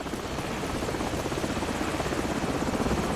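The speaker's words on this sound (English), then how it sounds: "Hold on, the helicopter's back." Continuous rhythmic chopping of a helicopter's rotor in the video game Call of Duty 4: Modern Warfare, steady and moderately loud with no talk.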